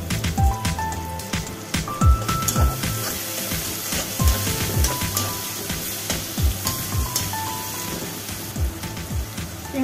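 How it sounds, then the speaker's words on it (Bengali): Chopped onions fry in hot oil in a pan for a Bengali hilsa and potato curry, giving a steady close sizzle dotted with crackles and pops, with occasional soft utensil clinks. "পেঁয়াজটা আমি একটু হালকা করে ভেজে নিলাম।"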